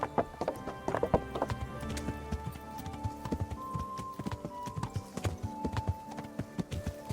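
Horse hooves clip-clop steadily at a walking pace in the medieval game Kingdom Come: Deliverance, close and clear, with a faint whinny and no talking.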